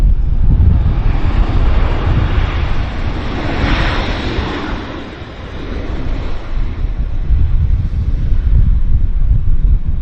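A Lufthansa Boeing 747-400 arriving at Vancouver Airport: a loud, steady jet roar spread across the whole clip, swelling mid-way as it passes, with heavy wind rumble on the microphone and no talk.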